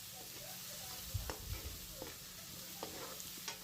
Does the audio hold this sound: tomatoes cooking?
yes